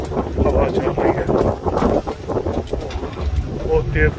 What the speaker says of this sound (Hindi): बहुत तेज ठंडी हवा चल रही है।